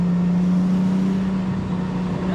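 Nissan Skyline GTT engine on a mountain road, heard from inside the car: a loud, steady droning hum holding a constant low pitch with a rushing wind and road roar behind it, no talking.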